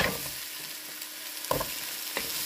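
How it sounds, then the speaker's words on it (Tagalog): Carrot and taro sauté in a hot pan with a steady close sizzle, while a utensil scrapes and stirs now and then with a few distinct clacks. "Tapos, igisa natin ang carrot"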